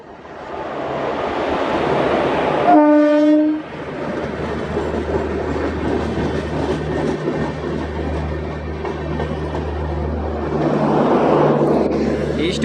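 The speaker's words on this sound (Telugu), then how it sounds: "హార్న్ కొడుతుంది ఏ ట్రైన్ చూడాలి" A loud train horn blares with harmonic tones for about a second amid the steady rumble of a moving Warangal–Secunderabad MEMU train, with faint talk in the background.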